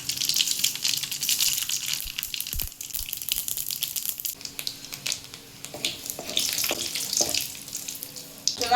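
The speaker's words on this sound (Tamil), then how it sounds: "எண்ணெய் காஞ்சிருச்சு, கடுகு போட்டு" Mustard seeds crackling in hot oil in a kadai: a continuous rushing sizzle dotted with small pops and crackles, at fairly low level and heard close throughout.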